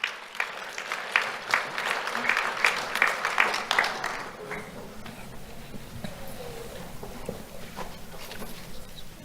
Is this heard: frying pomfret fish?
no